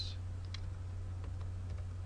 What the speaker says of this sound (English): So I'm going to type author last name